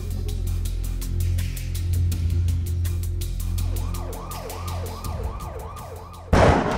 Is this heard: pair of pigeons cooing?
no